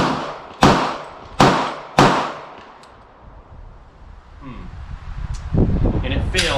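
Three sharp, loud Glock 23 pistol shots fire in quick succession, each with a short echoing decay, followed by a quieter stretch of handling noise and rustling.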